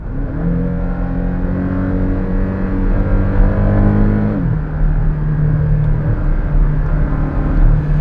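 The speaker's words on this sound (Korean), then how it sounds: "지금 하드에 놓고 배기 사운드 완전히 올려놓고 이렇게 달리니까" A Porsche 718 Cayman GTS's exhaust roars steadily as it accelerates, rising in pitch, then drops to a lower tone after a gear change and keeps pulling hard.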